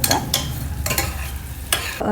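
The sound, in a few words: cashew pieces frying in butter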